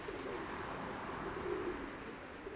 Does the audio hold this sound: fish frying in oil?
no